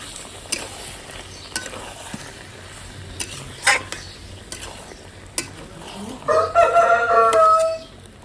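Fried potatoes and water go into a chicken curry in a pot, with scattered clanks and scrapes of stirring over a soft sizzle. A rooster crows loudly nearby toward the end.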